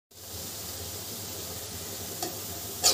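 Onions and capsicum fry in butter for pav bhaji, giving a steady close sizzle with a soft hiss and a brief stir or clatter near the end.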